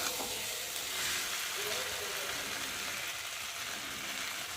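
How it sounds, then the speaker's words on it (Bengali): Frying potatoes and green bananas hiss loudly and steadily as water is poured into the hot oil, a close, continuous sizzle with no pauses. "চলো আমি এখন এর দুবার জল ঢেলে দেবো"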